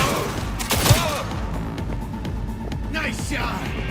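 Gunfire in Cyberpunk 2077, a fusillade of thumping shots in the first second or so amid dense game action noise, followed by a continuous busy layer of effects and voices talking over it.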